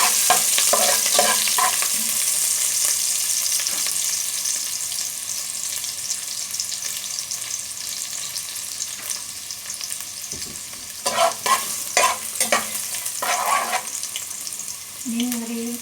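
Garlic stirred in a hot pan while cooking pancit bihon: a continuous close frying hiss with a burst of clattering spatula scrapes near the end.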